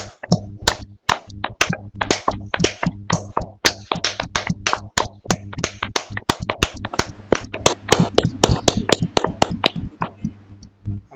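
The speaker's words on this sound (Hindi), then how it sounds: "जोरदार तालियां बजा दीजिए" A small group claps for a yoga teacher in a class, with sharp, distinct hand claps in an uneven, fairly quick rhythm. The clapping is close by and continues for about eleven seconds, with a low hum underneath.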